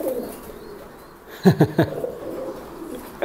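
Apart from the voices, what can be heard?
pigeons cooing during pairing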